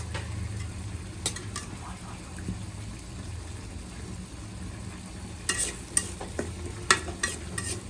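Chicken and vegetables with salt, chilli and turmeric stirred in a hot pan, a low sizzle under repeated spatula scrapes and knocks that grow busier near the end, close by with no speech.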